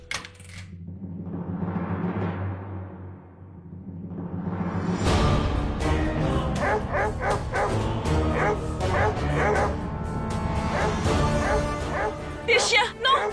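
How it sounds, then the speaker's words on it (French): Dogs barking and yipping in quick repeated bursts, mixed with whimpering, loud and close, with people talking alongside the animals. "Des chiens! Non! Sors ces chiens de là"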